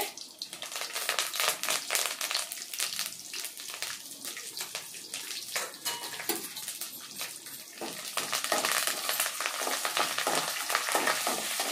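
Mustard seeds, cumin, chana dal, dried red chillies and curry leaves fry in oil for a tamarind rice tempering, giving a steady, loud, broadband sputtering hiss with crackles throughout.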